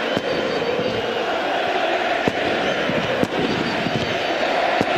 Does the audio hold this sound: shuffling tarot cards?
no